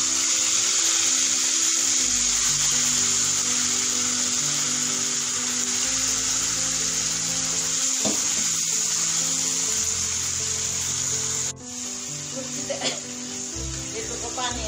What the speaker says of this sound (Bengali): পেঁয়াজ রসুনটা প্রায় ভাজা হয়ে গেছে, এখন আমি এখানে সবজিগুলো দিয়ে দিব